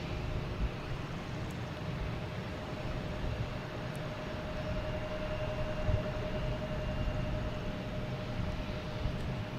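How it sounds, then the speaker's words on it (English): An Alaska Airlines Boeing 737 MAX 9 arriving at Boston Logan Airport, heard as a steady, broad jet roar with a faint whine, holding level throughout with no voices. "next to arrive is Alaskan Airlines 737"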